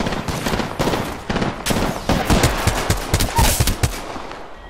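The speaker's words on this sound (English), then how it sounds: "Getting shot at." Rapid bursts of automatic gunfire in the video game Apex Legends, loud and close, with dense clusters of shots crackling in quick succession.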